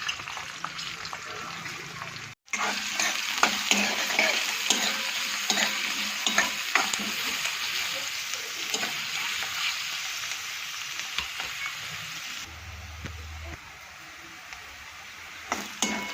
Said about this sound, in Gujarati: ડુંગળી શેકાઈ ગઈ છે મસ્ત